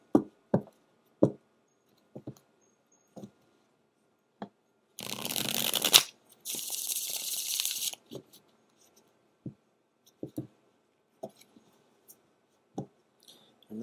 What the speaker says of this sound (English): I'm just going to show you the shuffling just so that you can see.